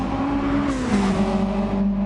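A monster Subaru rallycross car roars past in a WRX Challenge race, its loud engine note holding steady and then dropping in pitch as it sweeps by close up.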